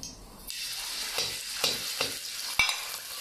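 Garland chrysanthemum greens stir-fry in a wok with soybean paste, a bright steady sizzle broken by several short scraping strokes of the spatula, close and alone without speech.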